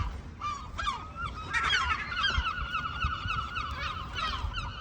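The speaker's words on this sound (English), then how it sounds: "So we're gonna release these 2 healthy gulls." Gulls being released outdoors give a flurry of loud, overlapping honking calls, close by and continuous, over rustling background noise.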